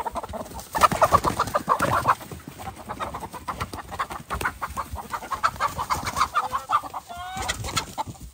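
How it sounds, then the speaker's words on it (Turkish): Chickens cluck and squawk in agitation as dogs attack them on a mountain farm, with hurried, overlapping calls across a busy, noisy outdoor scene. "Bak hele bak hele. Tavukları boğuyorlar."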